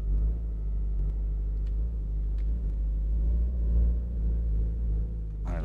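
A car engine idles and runs steadily as the car is driven onto a lift in a garage workshop, a loud continuous low rumble throughout.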